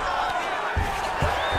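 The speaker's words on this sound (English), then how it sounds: "big pop from the crowd as they get back to their feet after a pretty scintillating grappling battle there on the ground" A fight crowd cheers and roars as grappling fighters get back to their feet, a broad swelling din with a few louder whoops rising over continuous murmur and a voice talking.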